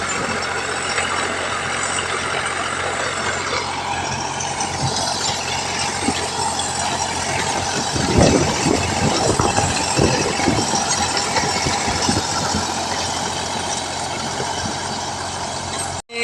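A diesel tractor engine runs a rotavator continuously with a steady drone and high whine, its rumble growing rougher and louder midway, then cutting off abruptly.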